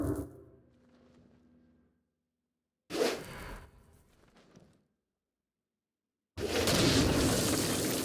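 Stone Blast power in Saints Row: Gat Out of Hell, heard as separate bursts: a quieter rumble, then a sharp blast that fades, and finally a loud, dense roaring burst at the end.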